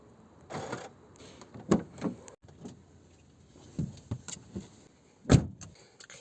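Someone gets into a car with a scattered series of soft thumps, clunks and rustles from the door and seat. The sounds are fairly quiet and no one talks.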